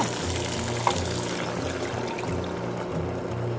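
Steady, soft sizzling of starch-coated tofu frying in a pan, a continuous crackling hiss with a low hum underneath and one small clink.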